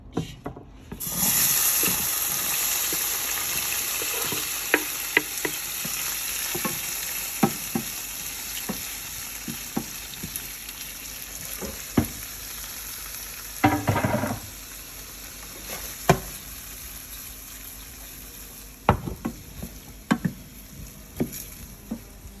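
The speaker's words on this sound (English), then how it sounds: "So while the sauce is cooking, I'm now gonna saute my veg." Vegetables including bell pepper sauteing in a pan for a sweet and sour chicken with pineapple, a steady close sizzle broken by repeated scraping and clacking stirs throughout.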